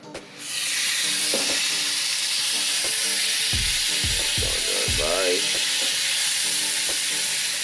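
A tomahawk steak hits a hot pan on the stove, bursting into a loud sustained sizzle that stays close and steady, with a few thumps and scrapes of handling and a brief voice.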